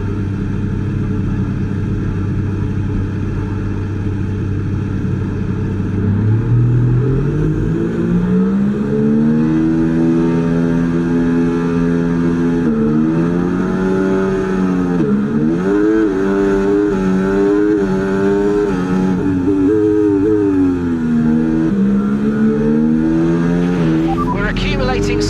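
Simulated McLaren MCL38 Formula 1 car at the Zandvoort race start, engine revving steadily then climbing in pitch through upshifts, continuous and loud with a voice talking over it.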